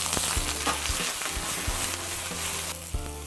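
Green parts of Korean leek (daepa) sizzle in hot oil in a pan: a close, continuous crackling fry with occasional clacks of stirring, no voices.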